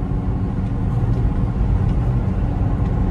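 A Citroen C4 1.6 hatchback's engine drones steadily while driving, a dense low rumble mixed with road noise that stays constant and fairly loud throughout, without any speech.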